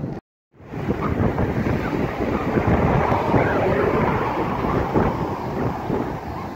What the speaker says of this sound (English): So this is the Atlantic Ocean over the seawall this morning.